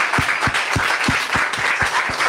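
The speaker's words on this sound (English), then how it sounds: "can I kindly ask you to please stand up and give a round of applause as Dr. Ma'am Sindiwe Magona comes to stage." A scattered round of hand claps from an audience at a literary event as an author comes to the stage, several people clapping in a loose, uneven rhythm at moderate volume.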